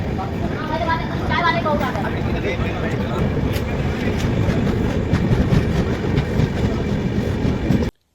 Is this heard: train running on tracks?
yes